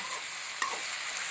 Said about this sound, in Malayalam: നമുക്കടുത്ത് ക്യാരറ്റ് ഇട്ട് കൊടുക്കാം.